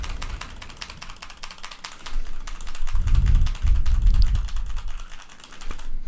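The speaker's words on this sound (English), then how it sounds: "just go nuts on this keyboard and just see how much of my voice versus how much keyboard noise it's picking up" Rapid, fast typing on a computer keyboard recorded close on a studio microphone, with dense clattering keystrokes throughout and a few heavier thumps in the middle, without talk.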